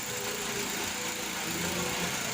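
A genset started to power an inverter welder for a folding garage gate, running with a steady, fairly faint mid-pitched engine drone and a constant hum throughout.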